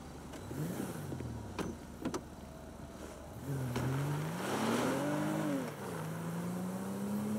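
A car driving in the video game GTA 5, its engine rising and falling in pitch as it accelerates and revs. Two sharp clicks come early, then the steady engine drone continues alone at close range.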